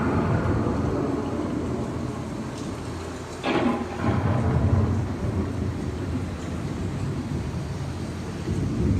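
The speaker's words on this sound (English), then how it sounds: "The approaching storm may seem violent and destructive to us, but to nature, it's a new beginning" An approaching thunderstorm in open country: dense, loud, steady rain throughout, with one thunder crack and rumble partway through, and no voices.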